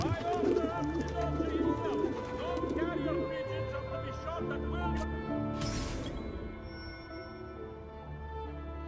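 Pigeons coo in the video game Assassin's Creed II, a cluster of soft, close, repeated coos in the first few seconds over low ambient game music, followed by a brief crash and quieter background.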